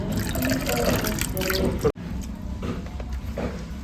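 Water is poured into bhaji batter at close range, giving a wet, splashing, squishy liquid sound that breaks off abruptly midway and then resumes more softly.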